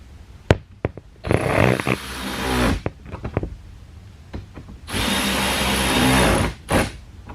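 Power tool driving factory hardware to fasten aftermarket speakers in a Jeep Gladiator, two sustained whirring bursts of a couple of seconds each with clicks, taps and handling knocks between them, close up.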